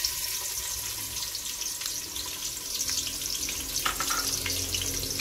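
Onions frying in hot oil inside a pressure cooker, a soft steady sizzle that grows a little louder partway through, with a few light clinks, fairly quiet and without speech.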